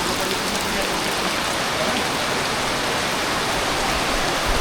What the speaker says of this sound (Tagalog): humina ng konti yung ulan